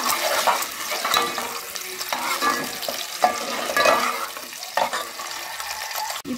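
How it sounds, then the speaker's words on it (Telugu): Boiled eggs fry in a pan with a close, continuous crackling sizzle, rising and falling as they are turned and stirred. "వీటిని ఫ్రై చేసుకోవాలి."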